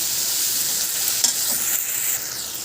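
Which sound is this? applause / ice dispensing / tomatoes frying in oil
tomatoes frying in oil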